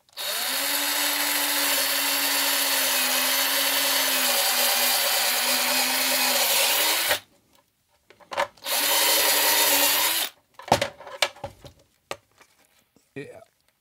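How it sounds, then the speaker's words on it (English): A step drill widens a hole in a metal front panel for an Amiga power supply, giving a steady loud grinding whine for about seven seconds, then a second shorter burst after a pause, with clicks and handling noises between. "I just used the step drill to widen the hole slightly."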